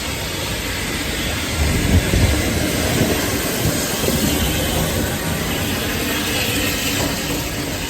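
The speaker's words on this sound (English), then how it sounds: "I think I can hear our train arriving." A steam train pulls into Haverthwaite station on the Lakeside and Haverthwaite heritage railway in the Lake District. A steady, loud rumble of wheels and engine fills the whole stretch, swelling slightly near the start, with no talking.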